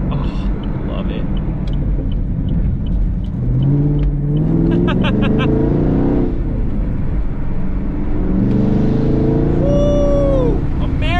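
A Chevrolet Camaro SS 1LE engine roars and accelerates on tight, twisty back roads near New Paltz, loud and close, with rising and falling revs between shifts while a person talks over it.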